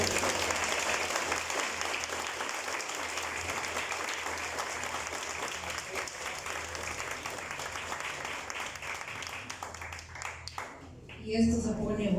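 Congregation applauding at a Spanish-language church service, a steady wash of many hands clapping that fills the clip and fades near the end.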